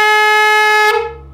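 A homemade air horn gives one loud, steady blast with a rich harmonic tone, held for about a second and then cut off abruptly. Nobody speaks.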